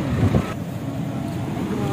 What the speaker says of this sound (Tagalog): Ang laki ng alon guys, oh.